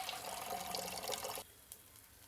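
Water being poured from a bowl into a pan on a low gas flame while making South Indian style upma, a steady splashing pour that stops partway through, leaving a faint quiet tail.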